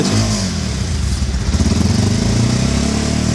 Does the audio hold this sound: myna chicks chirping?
no